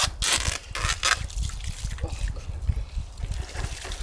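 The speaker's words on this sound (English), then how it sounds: "let's get it outside and flush it through" A hose flushes water through a car's diesel particulate filter that has been removed and cleaned with Wynn's off-car DPF cleaner, splashing and gurgling close by in a steady, uneven trickle and gush with no talk.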